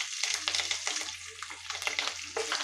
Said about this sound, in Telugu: ఒక 1/2 మినిట్ ఫ్రై చేసుకోండి. చూడండి, వేగిపోతున్నాయి.